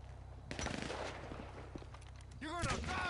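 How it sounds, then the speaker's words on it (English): Grenade launcher fire and rapid gunfire rattle in a crime-robbery video game, dense bursts close up in the mix while voices shout over the action. "Grenade launcher!"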